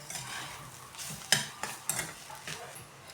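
Drumstick leaves stir-fried on a high flame, a soft steady sizzle broken by a few sharp clinks of a spatula against the pan, close and without talk.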